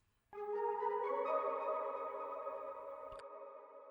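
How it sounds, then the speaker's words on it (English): A flute one-shot sample from a kit in FL Studio enters after a short silence as a single sustained breathy tone. It holds steady and slowly fades, ending with a faint click near the end, alone with no speech. "Now for this section, I wanted to add some flutes on it."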